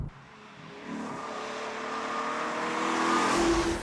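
A Maserati 4200GT Spyder engine revving steadily higher while driving, a smooth rising growl that swells in loudness over a few seconds, heard alone without talk.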